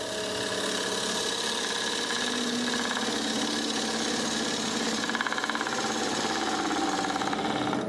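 A woodturning gouge rides the bevel against a spinning piece on a lathe, making a steady, rough, close cutting roar with a fine rhythmic chatter for about eight seconds and no voices.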